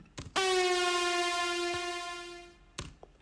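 A synthetic siren effect from a drum and bass track holds one loud, steady harmonic tone for about two seconds before fading, with brief percussive hits just before and after it.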